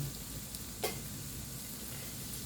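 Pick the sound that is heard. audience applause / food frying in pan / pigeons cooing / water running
food frying in pan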